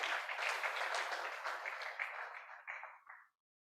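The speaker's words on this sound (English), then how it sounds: "Can we please give all of them a resounding applause?" Audience applause at the inaugural ceremony of a petroleum and gas engineering alumni association, a steady wash of many hands clapping that holds for about three seconds, then thins and stops abruptly.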